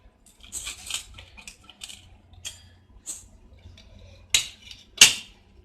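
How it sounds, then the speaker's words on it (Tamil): A knife cuts toasted cheese-filled bread into triangles on a plate, giving scattered crisp scrapes and taps with two sharper clicks near the end. "இப்போ இதை வந்துட்டு நம்ம இந்த மாதிரி 2ஆ கட் பண்ணிடலாம்,"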